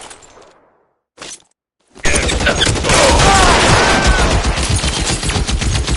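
Dense video game battle gunfire in a sustained automatic burst, loud and close, following a few quieter sporadic shots with short silences between them.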